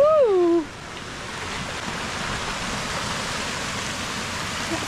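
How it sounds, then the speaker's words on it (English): Rushing water of Aysgarth Falls pouring through woodland in the Yorkshire Dales, a steady broadband roar that holds evenly throughout, opened by a brief whooping voice near the start. "Like a waterfall through the woods, it's beautiful"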